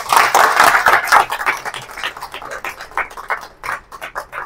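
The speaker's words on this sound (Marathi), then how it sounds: "पहिला प्रयोग झाला, टाळ्या वाजवा सगळ्यांनी." Scattered audience applause breaks out after the first demonstration at a live science talk debunking superstition, rising as a loud burst of clapping then thinning into uneven, sparse claps.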